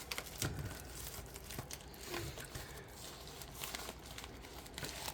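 Crinkly plastic wrapper of a trading card pack being torn open by hand and crumpled up close, in scattered, irregular bursts with no one talking.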